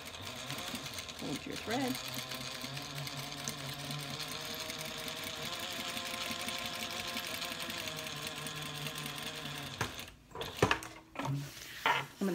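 Quilting stitches run steadily on a sewing machine working handbag exterior panels, a continuous close whir for about ten seconds before stopping, then a voice speaks with a few handling clunks.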